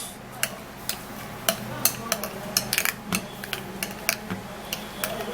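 Okra seed skin remedy being stirred and mixed in a bowl, with a run of light clicking and scraping taps, irregular and close, over a faint background.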